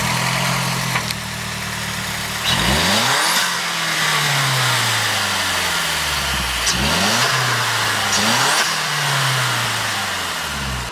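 Mazdaspeed3 turbo engine on a cold start, revved repeatedly through a Greddy blow-off valve: close, loud revs climb and fall in sweeps, each followed by a sharp venting whoosh, with the engine idling in between.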